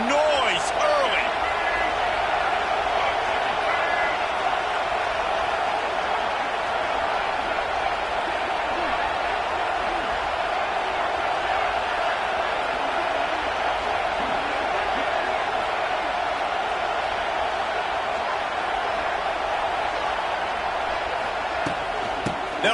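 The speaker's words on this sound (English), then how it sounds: "This crowd bringing the energy and noise early." Stadium crowd noise from a college football video game, a constant loud roar of massed voices that holds steady throughout without breaks.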